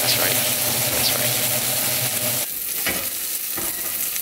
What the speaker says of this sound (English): Sear these bad boys on both sides.